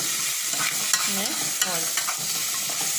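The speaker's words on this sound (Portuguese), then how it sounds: "Aí a água já tá aqui fervendo." Water boiling in a pot on a wood-fired stove gives a steady, dense hissing bubble with faint clinks, while someone briefly speaks over it.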